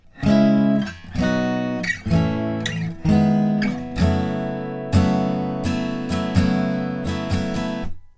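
Acoustic guitar chords from a song are strummed in a steady rhythmic pattern, with bright ringing down-strokes roughly once a second, clear and close with no voices.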